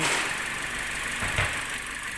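A Toyota Vios 1NR-FE engine idles after its cylinder head was removed and refitted, running steadily with a faint abnormal knock and one heavier thump midway.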